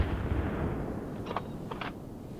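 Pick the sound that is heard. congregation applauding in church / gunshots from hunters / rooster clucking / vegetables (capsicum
gunshots from hunters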